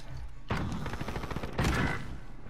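Gunfire in a video game, where a pump shotgun is in play: two dense clusters of sharp shot blasts, the first longer and the second shorter, fairly close with faint background ambience between them.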